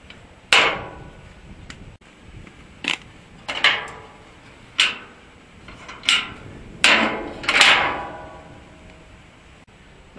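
Hammer blows ring on metal parts of a charcoal retort built from scavenged scrap in the woods, about eight sharp strikes at irregular intervals, close and clear.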